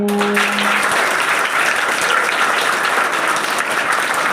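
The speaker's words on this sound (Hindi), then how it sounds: "एक बार अपने लिए तालियां बजा दो" Children applaud together at a school event, a dense, steady burst of clapping that fills the room and stays even in loudness.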